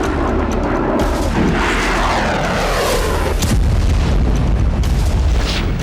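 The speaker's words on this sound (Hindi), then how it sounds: "अब यूक्रेन नई मिसाइल से हमले कर रहा है" Explosions from Ukrainian missile strikes in Russia, heard as loud, continuous booming and rumbling with heavy blasts and crackling, close and dense throughout, with no speech.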